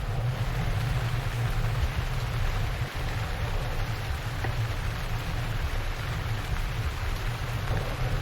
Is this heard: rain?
yes